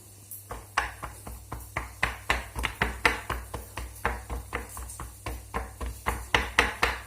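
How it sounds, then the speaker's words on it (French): A small fork repeatedly pricking pastry dough for a flamiche, a steady run of about thirty sharp taps against the tin beneath, close and distinct with no talking. "la petite fourchette, on va piquer."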